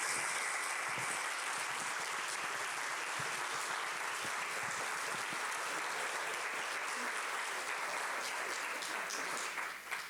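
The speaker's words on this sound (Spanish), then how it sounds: "Un aplauso," Continuous applause from an audience at a theater colloquium honoring the teachers, dense even clapping that fills the room at a steady level for the whole span.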